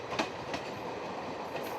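Train running on the Motichur to Kansra track, a steady rumble of wheels on rail with a few sharp clicks, heard from a moderate distance.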